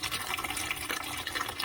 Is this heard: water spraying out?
yes